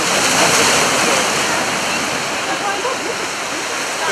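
Large waves on the Black Sea crash and roar continuously, a dense, loud wash of surf close by with no pauses.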